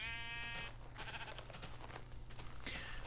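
A sheep in a video game bleats a couple of times over a steady low hum, moderately loud and close, with no talking.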